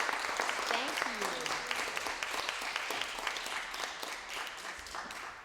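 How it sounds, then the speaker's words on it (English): Applause rises from the audience at an open mic night, a dense steady patter of clapping at moderate volume with voices mixed underneath. "Let's give her a round of applause."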